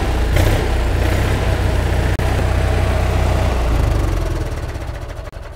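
An RV engine idles steadily as it warms up before an oil filter change. It gives a loud, low, continuous rumble that fades slightly toward the end, and no one speaks.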